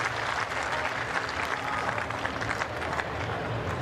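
Tennis crowd at the Miami Open applauding and cheering mid-rally, a steady dense wash of clapping and voices filling the whole stretch at moderate loudness, with no clear pauses.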